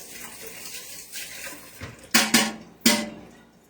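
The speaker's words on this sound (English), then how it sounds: "let me rinse off my tasting spoon." Tap water runs briefly over a metal tasting spoon at a kitchen sink while soup is being made, with a few sharp splashy bursts and clinks near the end, close and moderately loud, no talking.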